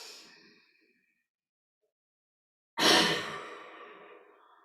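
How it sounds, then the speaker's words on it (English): Two forceful breaths are pushed out through the mouth during a yoga exercise. A fading exhale comes first, then after a silent pause a loud, close, breathy whoosh that tails off slowly. "Expel the breath through the mouth and tuck on the exhale."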